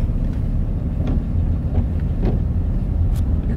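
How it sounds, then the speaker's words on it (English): A car producing an odd noise while driving, heard as a loud, steady low rumble of road and engine with a few faint knocks and rattles on top and no talking. "Your car makes a weird sound there."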